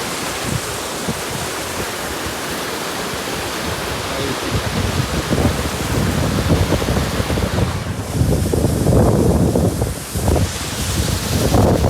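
Steady rushing water flows continuously along an irrigation channel beside a stream, with wind buffeting the microphone and a fuller churning wash building in the second half.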